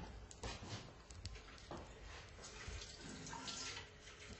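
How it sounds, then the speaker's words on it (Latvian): Tap water gushing under high pressure from a kitchen faucet into a tablespoon while an omelette is made, a continuous close hissing splash with no speech. "Nav tik vienkārši ar lielu spiedienu krāniem."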